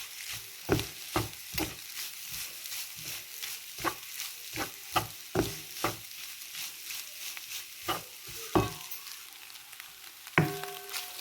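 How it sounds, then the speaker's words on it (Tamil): Noodles are stirred while frying in a pan, with a soft sizzle under repeated scraping and clattering strokes of the utensil at an uneven rhythm, close and fairly quiet, with no talking. "இனி நாங்கள் நூடுல்ஸை போட்டு கிளறுவோம்"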